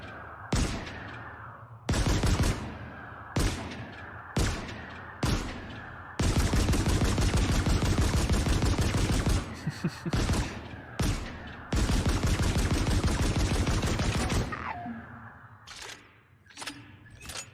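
Pulse rifle fire from the Dead Space Remake: loud, close bursts of rapid automatic shots, short volleys alternating with long sustained strings, each trailing a brief metallic echo.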